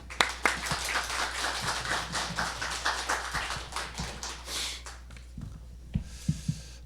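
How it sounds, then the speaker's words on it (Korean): Scattered clapping rises from a church congregation during a Sunday service, a moderate, uneven patter that tapers off into a few isolated claps and soft knocks near the end. "우리 박수로서."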